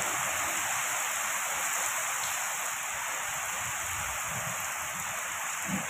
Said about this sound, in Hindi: ये देखो दोस्तों झमाझम बारिश, और आंधी देखो कैसे चल रही है